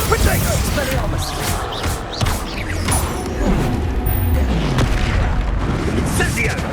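Magical explosions from Confringo spells in the Hogwarts Legacy video game boom out amid a dense, continuous barrage of combat effects and spell blasts, loud and layered throughout, with voices calling out over the din.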